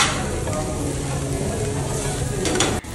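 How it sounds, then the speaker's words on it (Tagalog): Meat sizzling and frying on a tabletop grill at a restaurant, a steady dense crackle throughout with light stirring and utensil movement, close and continuous. "Sarap po talaga mag-grill ng meat."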